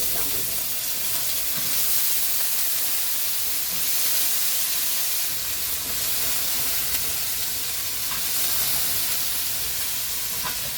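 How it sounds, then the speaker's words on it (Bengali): Jackfruit seeds fry with garlic in a pan, making a steady, moderately loud hissing sizzle with faint stirring scrapes throughout. "রসুন হয়ে গেছে ভাজা, এই যে দিয়ে দিলাম কাঁঠালের দানা।"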